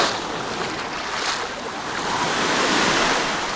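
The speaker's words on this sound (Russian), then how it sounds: "Ну, такие вот сейчас волночки здесь." Small sea waves wash onto the beach at Avsallar, Turkey, in a steady close surf with rising swells and gusts of wind on the microphone.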